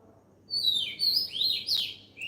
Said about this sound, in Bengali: এখন কিন্তু পাখিটি মোটামুটি নিয়মিত আওয়াজ করে যাচ্ছে